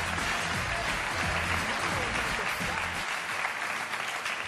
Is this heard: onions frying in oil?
no